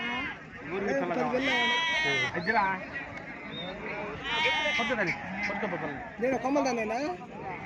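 Sheep and lambs bleat repeatedly at a weekly livestock market, with several wavering calls overlapping against a busy background of crowd chatter.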